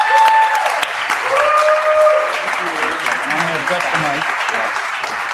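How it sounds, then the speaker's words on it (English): Conference audience at a livestreamed event gives sustained applause that gradually thins, with a voice speaking over the clapping toward the end. "Let's give a rousing round of applause to our very own Lake Paraguay."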